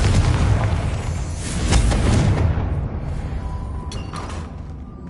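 Confringo fire blast spell explosion in the Hogwarts Legacy video game, a loud booming blast that rumbles and slowly fades, followed by faint mechanical creaks and clicks.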